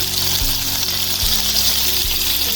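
Tomato fries in a hot pan with a dense, steady sizzle and a low background hum, close and loud throughout, with no speech.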